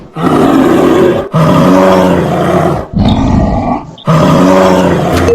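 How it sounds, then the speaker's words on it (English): A deep, drawn-out animal roar repeats four times in loud, rasping bursts separated by brief pauses, with no voices. "Bear sounds."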